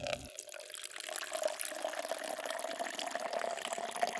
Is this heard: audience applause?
no